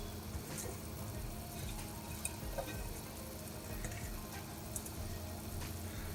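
Rice for green pulao cooks on high heat in a pan with a steady, fairly faint bubbling sizzle that continues evenly throughout.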